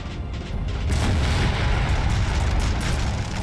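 Artillery fire on a Napoleonic war video game battlefield: a continuous low rumbling roar of distant booming cannon, dense and steady throughout, with no clearly separated shots.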